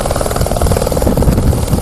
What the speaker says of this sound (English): we'll use a helicopter to actually make the whole thing go faster